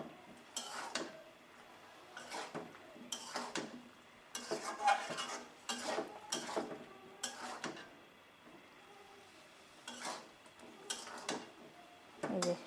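Spices with chili powder being stir-fried and scraped in a pan while cooking, with repeated bursts of utensil clatter and stirring against the pan, quiet gaps between strokes and no talk.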